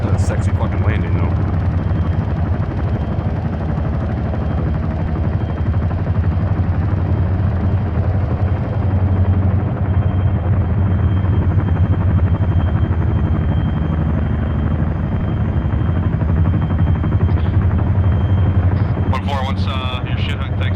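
A twin-rotor helicopter in a military video game, a steady loud rotor drone throughout with voices talking over it on radio.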